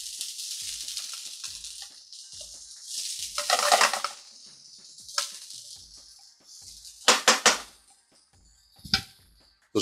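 Dried coriander crushed by hand over a cooking pot, a run of gritty crunching bursts that swell and fade, with a few sharp crackles near the end and no talking.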